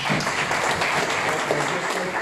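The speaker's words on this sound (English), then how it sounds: "Can we applaud both Joel and Rose?" An audience applauds steadily, a dense wash of many hands clapping throughout.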